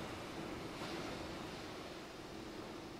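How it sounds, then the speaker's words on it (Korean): Steady wash of ocean surf rolling onto a beach, constant and fairly soft, with no voices. "파도 소리를 듣는 것만으로도 많은 위로가 되시죠."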